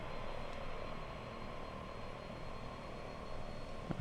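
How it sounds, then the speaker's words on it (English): A turboprop plane engine idling on a flight simulator taxi, a steady low droning hum with an even whine, faint and constant with no voices. "just listen to the sweet, sweet sounds of this plane"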